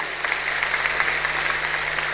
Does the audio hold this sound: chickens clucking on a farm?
no